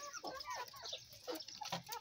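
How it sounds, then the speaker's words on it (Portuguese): Free-range chickens cluck and chatter in a backyard poultry flock, a busy run of short clucks near the listener, with no talk over them. "Você que ainda não viu, não conhece a minha criação de galinha."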